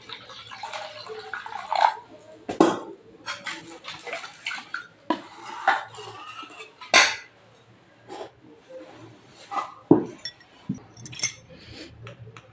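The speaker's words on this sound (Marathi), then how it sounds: "नंतर पाणी घालते" Water poured into a curd mixture in a home kitchen as batter is prepared, with intermittent splashing and clinking of a utensil against a vessel in short bursts, close by.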